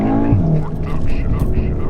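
A stage 2 VW Golf R spins around, its tyres giving a short squeal over a loud engine and road roar, with a voice talking over it.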